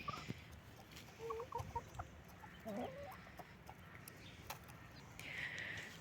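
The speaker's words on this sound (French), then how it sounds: "Regardez le petit piou-piou." Hens and a young chick on a backyard flock, soft clucks and a few high peeps heard close by over faint outdoor background noise, with no talking.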